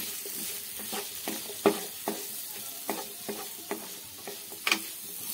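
Radish curry being stirred in a pan with a spoon, giving a run of distinct scraping strokes and clinks over a soft frying sizzle, close and moderately loud.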